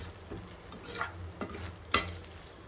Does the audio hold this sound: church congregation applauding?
no